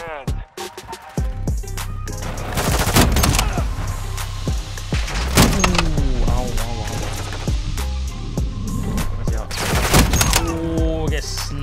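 Video game gunfire in Modern Warfare 2 beta multiplayer, with rapid automatic bursts and sharp single shots cracking repeatedly over a steady low hum, loud and close throughout.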